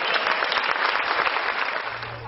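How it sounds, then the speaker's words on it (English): An audience gives a round of applause at a celebrity impressionist's show, a dense, steady burst of clapping that fills the room, with a brief low hum near the end. "Give him a nice round of applause."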